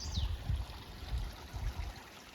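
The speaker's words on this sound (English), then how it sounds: "we're at Lance Creek" Creek water at Lance Creek on the Appalachian Trail rushes and trickles in a steady, close babble with low gurgling pulses, and a faint bird call briefly sounds at the start.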